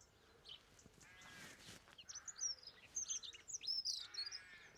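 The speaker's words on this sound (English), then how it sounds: "That's the dunnock singing." A dunnock sings a quick high warbling phrase from a treetop, clear and fairly close, with other birds chirping around it on a foggy morning.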